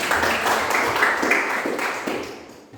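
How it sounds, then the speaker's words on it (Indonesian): Students in a classroom clap for a presenting group, a brief, moderately loud round of applause that tapers off toward the end. "tepuk tangan untuk kelompok dua."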